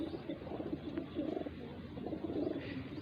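Pet pigeons kept by a hobbyist coo steadily at close range in soft repeated rolling calls, with a few faint chirps mixed in.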